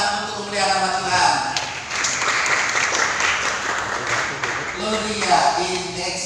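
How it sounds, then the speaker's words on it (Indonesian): A church congregation applauds after a youth performance at a pre-Christmas service, steady dense clapping filling the room for several seconds, with a voice talking over the start and end. "Kita beri tepuk tangan untuk memuliakan nama Tuhan."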